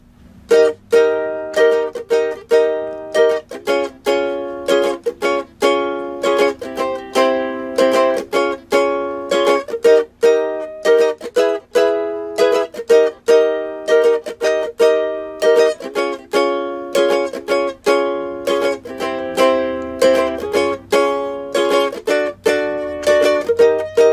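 A bright plucked ukulele plays a bouncy, syncopated melody with repeated chords, steady and fairly loud, no voices.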